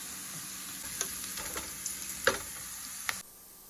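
Onions and green chillies fry in a pan, a soft continuous sizzle broken by several crisp spatula taps and scrapes, before the sound cuts off abruptly near the end, with no talking.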